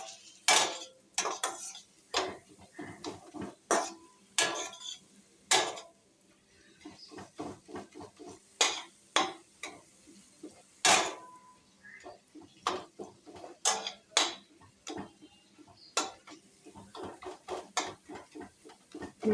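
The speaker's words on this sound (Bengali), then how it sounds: "এবার মশলাগুলো দিয়ে একটু কষিয়ে নেব।" Spices are stirred and fried in a pan for papaya with hilsa fish head, heard as a run of sharp, irregular scraping and clinking strokes of a utensil against metal over a faint low sizzle, close and without talk.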